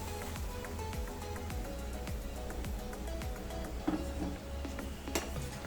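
Onion and nut paste going into a pan of frying spices for Old Delhi chicken changezi, with steady clatter and scraping of a spoon against the pan, soft continuous sizzle beneath, and a few sharper knocks near the end.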